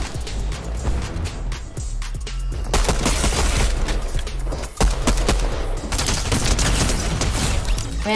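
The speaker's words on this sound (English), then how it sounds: "we're gonna hop in the cannon, shoot our way up" Video game cannon fire: a dense, loud barrage of booming shots and blasts, rapid and overlapping, continuing throughout with no voices.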